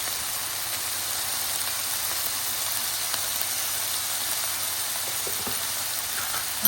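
Potato fry cooking in a pan with turmeric and chili powder, a steady close hissing sizzle that stays even throughout with faint stirring scrapes near the end.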